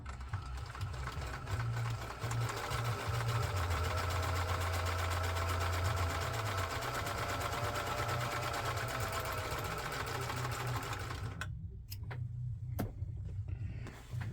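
A Singer 14U34 serger with a failing speed controller runs steadily through a frayed fabric edge, its loud continuous mechanical whir holding for about eleven seconds before cutting out, leaving a few faint clicks and handling noises.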